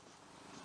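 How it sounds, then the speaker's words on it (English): A cat purrs softly nearby in a brief, faint, continuous rumble with no voices over it. "So there's a little bit of purring going on."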